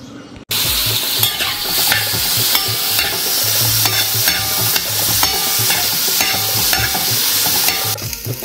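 Onion frying in a pan on a home stove with steady stirring, a dense continuous sizzle with repeated scraping strokes of the spoon, loud and close throughout, no talking.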